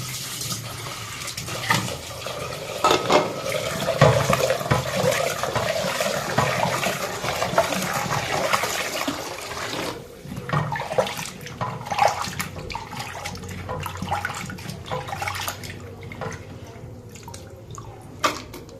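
Running water pours steadily over lentils (dal) being washed in a kitchen, with loud continuous splashing through the first half and a quieter flow with scattered drips and sloshes afterward.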